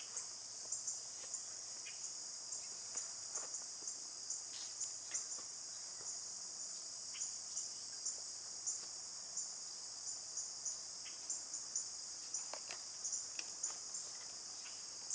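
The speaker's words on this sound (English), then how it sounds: "I bet if you listen closely, you'll hear all the mosquitoes around me." Insects whine and chirp steadily through a summer cottage garden, a continuous high thin drone with faint scattered clicks and rustles, no voices, heard from close by the person standing among perennials.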